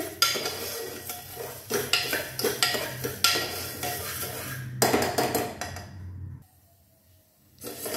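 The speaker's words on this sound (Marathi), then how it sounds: "आता याच्यात हे आपण जे मूग घेतलेले ते घालतोय। लो टू मीडियम फ्लेमवर हे आपल्याला परतून घ्यायचे।" Green moong beans stirred and dry-roasted in a pan over a low to medium flame: repeated metallic scrapes and clinks of a utensil against the pan, close and fairly loud, pausing briefly before resuming.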